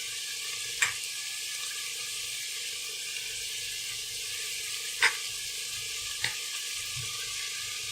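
Tomatoes simmer in a pan over low heat with a steady soft sizzle as sauce goes in, broken by three brief knocks or clinks.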